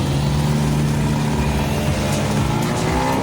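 A Yamaha MT-15 150cc motorcycle accelerates in a drag race, its engine giving a loud, steady roar up close that runs unbroken for the whole stretch.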